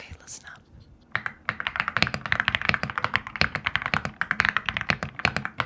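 Rapid, crisp keystrokes on a new computer keyboard clatter close and clear in an irregular stream of taps, following a brief faint sound at the start.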